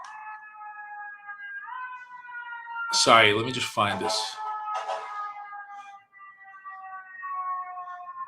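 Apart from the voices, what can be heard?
emergency vehicle siren passing outside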